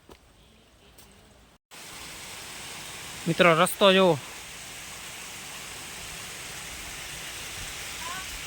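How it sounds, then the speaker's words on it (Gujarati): Steady broadband wash of rain and water running down old stone steps on Girnar hill, Junagadh, throughout, with a brief spoken voice in the middle and a quiet, muffled start. "ઉપર વરસાદ વરસે છે અહીંયા પાણી આવે છે"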